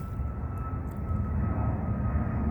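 Steady low propeller or jet drone of an airplane passing overhead, continuous and moderately loud, swelling slightly toward the end with no talk.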